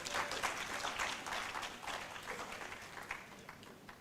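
An audience at a registrar's management seminar claps steadily for about four seconds, a dense, moderately distant patter with no voices.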